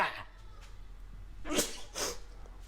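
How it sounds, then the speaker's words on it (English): A couple of sharp, close sneezes in quick succession, preceded by a brief inhale, against a quiet room background. "I gotta sneeze."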